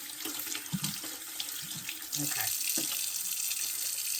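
Hot water runs from a kitchen sink faucet during dishwashing, a steady close hiss that swells louder partway through, with a brief word spoken over it and some clatter early on.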